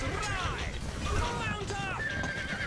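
Horses neigh and clatter in a Stronghold Crusader battle, with repeated whinnies and hoof clip-clop in a busy game mix, while a voice talks over it.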